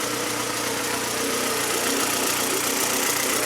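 A Honda B18C DOHC VTEC engine swapped into a Civic idles steadily and loudly up close, a dense continuous rumble with a slight knocking texture and no voices.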